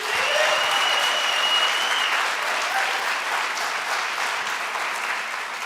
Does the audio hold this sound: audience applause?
yes